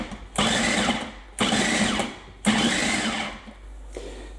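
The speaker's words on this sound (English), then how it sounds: "if you've got a food processor, well done you. Take your onions, slice them in half, pop them in" Food processor blitzing halved onions in three short bursts, a loud motorised whir with chopping rattle that stops abruptly between pulses, nearby and with no talk.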